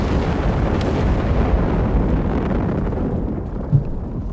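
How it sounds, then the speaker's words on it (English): A dense, continuous rumble of Stuka rocket explosions in Company of Heroes 3, sustained booming impacts blending into a heavy roar with one slightly sharper hit near the end, no voices. "They're just unleashing rockets upon suspected allied positions"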